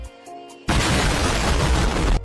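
A cartoon firecracker goes off inside a helmet: a quiet moment broken by a sudden loud burst that becomes a sustained crackling, booming roar lasting over a second.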